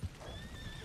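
A horse whinnies briefly and faintly in the Red Dead Online video game, with a thin high tone drawn out over a low rumbling background and a soft hoof thump at the start.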